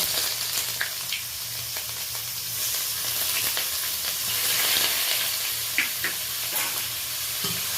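Grated onion added to hot oil with spices, sizzling and frying steadily, with occasional stirring scrapes and soft clicks close by, no voices.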